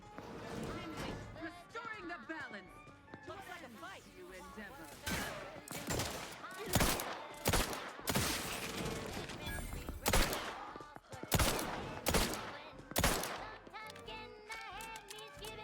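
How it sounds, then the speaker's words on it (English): Sharp bursts of gunfire ring out in the sci-fi shooter Outer Worlds 2 as a chaotic firefight unfolds, with repeated loud cracks and clustered volleys spread throughout, while voices talk between and over the shots. "Glad you guys decided to shoot at them randomly."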